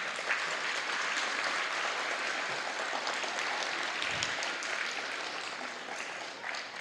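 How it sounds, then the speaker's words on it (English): An audience at a fifth-grade school recognition night applauds steadily, a dense, even wash of clapping hands that continues throughout without a break. "Fifth graders, can we give your families a round of applause?"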